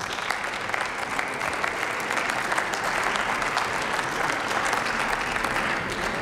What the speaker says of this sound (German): Und ich glaube, das verdient auch einen extra Beifall.